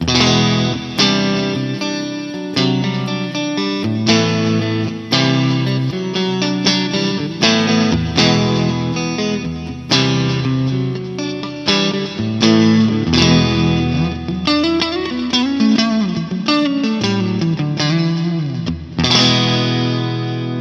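An electric guitar played through a Vox AC30 amp plugin on a clean tone rings out in strummed chords and picked notes with a light chorus-like shimmer, steady and loud with no talking.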